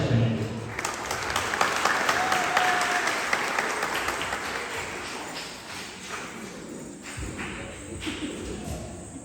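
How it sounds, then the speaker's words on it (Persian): An audience claps at a Hazara culture day event, a dense burst of applause that is strongest at first and slowly tapers off, with a voice heard briefly over it. "تشویق کنیم"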